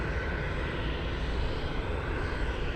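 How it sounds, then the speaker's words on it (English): Blue Boeing 747 jet taking off at Anchorage airport, a steady broadband engine roar that fills the scene evenly and loudly, with no voices over it. "Blue 747 taking off."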